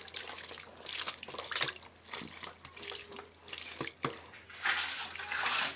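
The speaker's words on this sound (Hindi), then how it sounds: "तो हम पहले पानी से भिगो देंगे उसको।" Water is poured over shoes to soak them before a soap wash, a continuous splashing, trickling stream that swells and fades in irregular surges.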